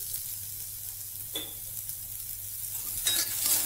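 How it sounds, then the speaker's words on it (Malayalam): Carrots sautéing in a pan over a low flame, giving a steady soft sizzle with a couple of brief scraping stirs and no voices. "ഈ ക്യാരറ്റ് നല്ല രീതിയിൽ വഴണ്ടി കിട്ടണം. നമ്മൾ ഫ്ലെയിം കുറച്ച് വെച്ചിട്ട് 5 മിനിറ്റെങ്കിലും വഴട്ടി എടുക്കണം"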